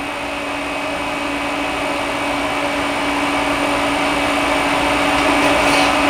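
TIG welding on stainless steel with a number 12 GLS gas cup gives a continuous loud, steady electric hiss and buzz with a faint whine, unbroken throughout.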